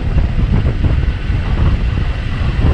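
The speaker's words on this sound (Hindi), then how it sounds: "ऐसे भी आपको साउंड जो है हवा का अच्छा सुनाई दे रहा होगा।" Steady, heavy wind buffeting on the microphone while a Honda CB Shine SP motorcycle rides at 60 km/h, a constant low roar throughout with no speech.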